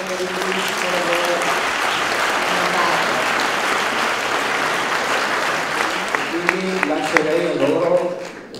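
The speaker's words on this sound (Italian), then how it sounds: "chiedere un applauso per questa bellissima edizione a Angelo Signorelli e al suo staff per il bellissimo lavoro." An audience at the BFM 30 film festival gives a loud, sustained round of applause for the edition and its organisers, with voices talking over the clapping at the start and again as it fades.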